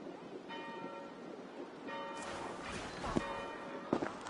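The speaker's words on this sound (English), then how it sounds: "Do you not hear the bells?" Church bells ring in a steady series of clangs, moderately distant, over a hushed ambient background with faint shuffling.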